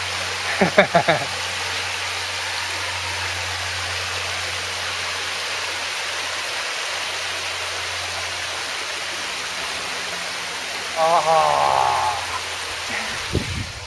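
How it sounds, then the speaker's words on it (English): A steady, even rush of flowing creek water along the Katy Trail fills the scene, broken briefly by a couple of bird chirps and faint knocks. "I just want to get a shot of this nice peaceful creek"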